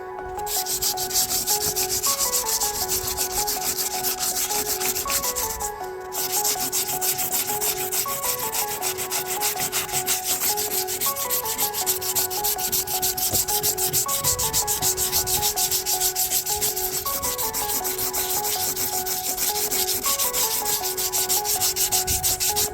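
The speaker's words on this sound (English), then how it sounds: "For right now, I'm just sanding it down for prep for later on." Steady, loud sanding rubs against an OBS truck's metal body panel, prepping the clear coat, in a fast, even back-and-forth rhythm that runs without a break.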